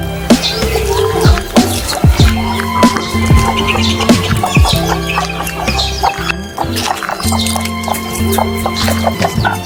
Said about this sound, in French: Vous avez déjà vu des poules avec des poussins qui restent en compagnie des chiens comme ça?